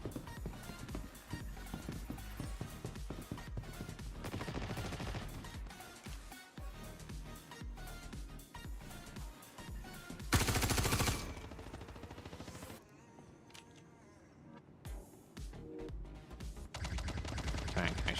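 In the Star Citizen video game, a Karnan weapon fires repeated bursts of gunfire over other busy in-game sounds, with a louder stretch partway through.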